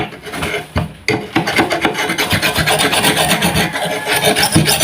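A file rasps back and forth along the rusty blade of a coconut grater to clean and sharpen it, a steady run of close, loud scraping strokes after a brief pause near the start.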